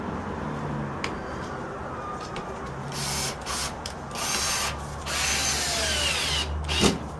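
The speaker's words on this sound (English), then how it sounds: "So now you just put all your screws in." A power drill drives screws into sheetrock while patching a cut hole in a wall, giving a few short, close buzzing bursts of the motor between quieter pauses, with no talking.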